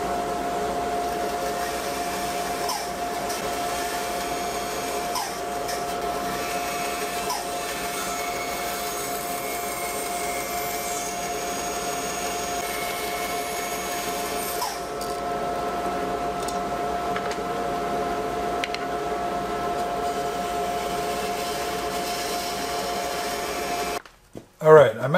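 A bandsaw runs steadily cutting wood for a trestle horse, a constant whirring drone holding at even loudness for most of the stretch before cutting off near the end with some handling noise.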